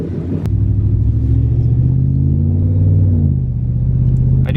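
A Hemi V8 car fitted with a new throttle body rumbles as it drives off, a loud, deep, steady engine drone with a slight rise in pitch, heard close with no talk.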